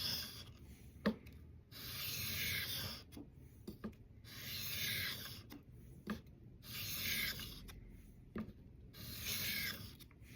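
Steel knife blade stroked across the 6000 grit side of a whetstone, a series of steady rhythmic rasping rubs in repeated bursts with short pauses and occasional light taps, close up and alone.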